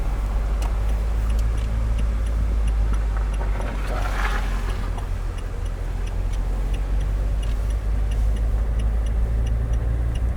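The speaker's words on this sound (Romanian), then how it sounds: "Încă vine mașină din față." A van drives slowly in second gear along a narrow valley road toward Poiana Danciului in the Apuseni mountains, a steady low engine rumble with faint ticking, continuous and close.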